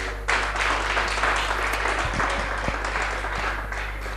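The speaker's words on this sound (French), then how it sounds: "Est-ce qu'on peut applaudir très fort pour les frères SOP?" Applause from a studio audience in Yaoundé cheering the gospel group SOP brothers, dense steady clapping that starts abruptly and holds loud throughout with a low hum beneath.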